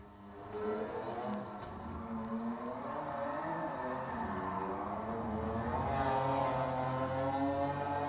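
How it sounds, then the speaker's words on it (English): A high-pitched McLaren car engine revs steadily, its buzzing tone wavering and climbing toward the end, loud and close without any talking. "But let's listen to this McLaren engine."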